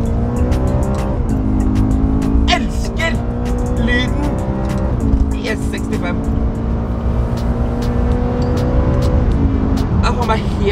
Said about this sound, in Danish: Lyden i S65. Det er helt rått.